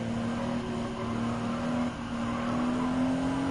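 Race car driven at Grand Valley, a Californian circuit, in Gran Turismo 7, a Japanese FR car on a lap: a steady, loud engine drone with a rising pitched whine, continuous and alone.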